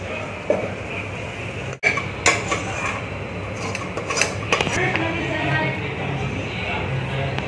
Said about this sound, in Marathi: तर आपण कढईतली ग्रेव्ही आहे ना तीच कुकर मध्ये ओतणार आहोत